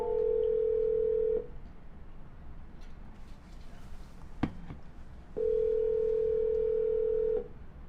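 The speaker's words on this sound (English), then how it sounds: "No answer. We're going to double dial." Telephone line tones while double dialing a seller on a cold call: a long steady tone, a gap with a click, then the tone again, close and clear.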